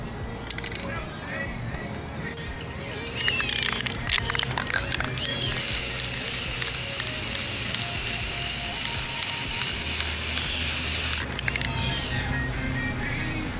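Candy purple paint hisses from a spray can onto a Suzuki motorcycle, first in short bursts and then in a steady, loud spray lasting several seconds, while someone talks throughout.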